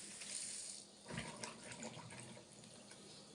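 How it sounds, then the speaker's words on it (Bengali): Flat beans being washed under a running kitchen tap, a faint steady stream of water with splashing and sloshing as the beans are rinsed and handled, and no talk. "সিমগুলি সুন্দর করে ধুয়ে নিলাম।"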